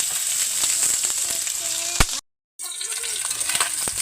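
Chicken feet and milkfish fry in hot oil with a steady, close sizzle and scattered sharp crackles. The sound cuts out briefly, then the sizzle resumes.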